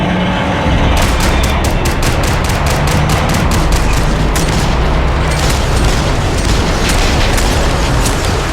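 Rapid bursts of gunfire in the video game Max Payne 3, a loud, dense stream of regularly spaced shots over a heavy rumbling booming background that runs nearly continuously.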